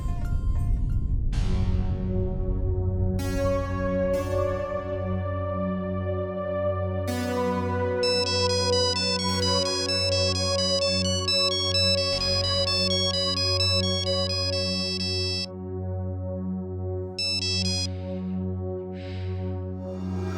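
An electronic ringback tone of an outgoing phone call plays continuously, bright repeating tones over a steady droning backing, loud and with no talking.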